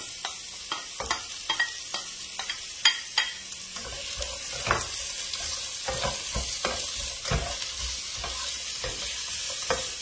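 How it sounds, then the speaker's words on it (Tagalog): Onion sautéing in a pan for ginisang patola, a steady frying hiss under repeated sharp clacks and scrapes of a spatula stirring against the metal, close and fairly loud throughout. "Magigisa na po si Chef ng sibuyas."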